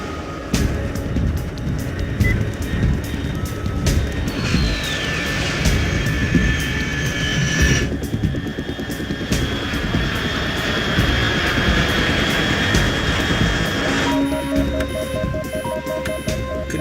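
An aircraft passes over at altitude in the PS2 game Metal Gear Solid 3: Snake Eater, a sustained jet roar with a rising and falling whine, and a run of electronic beeps near the end.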